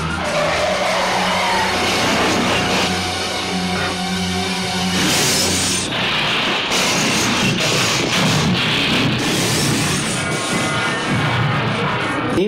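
Car tires squeal and skid loudly and continuously as a car is run off the road in a film chase, the screech shifting in pitch with engine and road noise beneath it.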